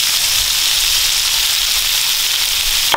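King crab fried rice sizzles steadily in a hot pan, a bright, dense hiss with light stirring, close and loud, ending in a quick scrape.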